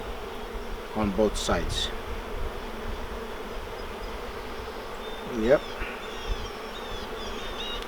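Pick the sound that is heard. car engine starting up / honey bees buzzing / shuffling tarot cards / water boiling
honey bees buzzing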